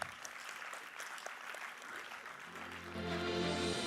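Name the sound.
audience round of applause at convocation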